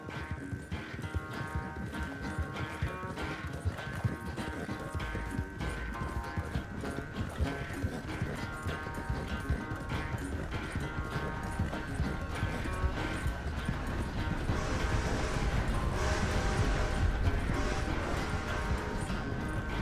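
Horse hooves clip-clop steadily in Red Dead Redemption 2, a continuous rhythmic trot heard up close over a dense game soundscape for the full stretch.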